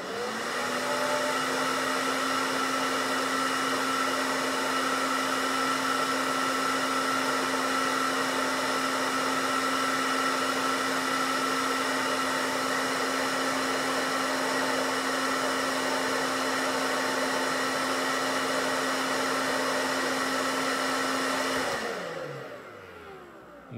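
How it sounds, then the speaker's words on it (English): A hair dryer blows with a loud, steady whir and a constant tone, then winds down as it switches off at the end. "now we're gonna turn on a hair dryer"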